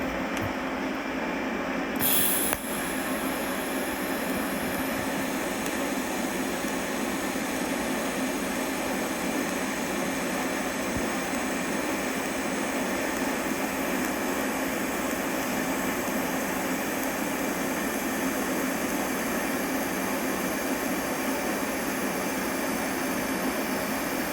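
An Everlast PowerTIG 325EXT TIG welder running at 100 amps gives a steady, even hiss with a faint buzz that holds unbroken for over twenty seconds after a brief click at the start.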